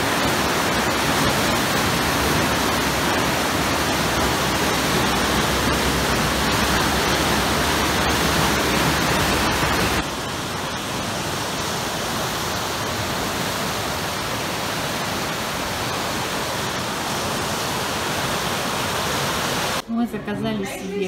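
A river in Austria rushes loud and steady, continuous broadband water noise that shifts in tone partway through and cuts off near the end.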